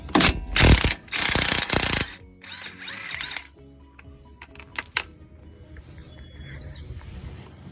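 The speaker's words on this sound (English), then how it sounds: "So we're gonna use a 15mm, the impact, 1/2-inch impact." A half-inch impact wrench with a 15mm socket working on a 2-inch leveling kit for a Chevy or GMC truck: loud, close bursts of rattling hammering fill the first two seconds, then quieter mechanical clicks and clanks follow.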